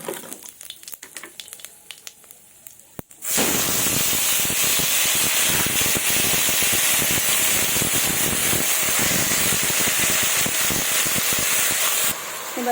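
Bottle gourd pieces drop into hot oil seasoned with panch phoron, dried red chilli and bay leaf, setting off a sudden loud, steady sizzle that carries on close up after a quieter start.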